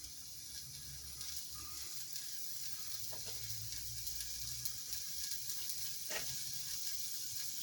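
Bacon sizzles steadily in a pan while wrapped around hot dogs, a soft, even frying hiss with a few faint clicks and scrapes over a low background hum.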